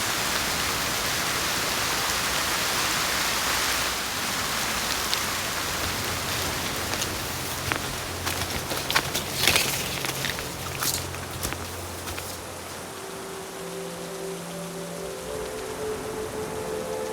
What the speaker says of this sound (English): Starting to get some rain.